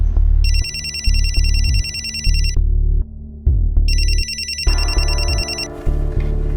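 Phone ringing with an incoming call in a crime drama, a loud repeating electronic ringtone in two bursts over a low rhythmic musical backing.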